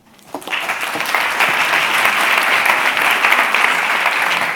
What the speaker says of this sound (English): So please give a big applause to Xenia Riasol and her project, NEN